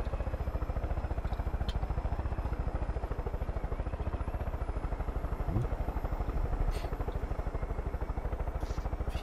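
Helicopter in the video game Far Cry 5, a steady pulsing rotor drone with engine whine running throughout at close, even loudness.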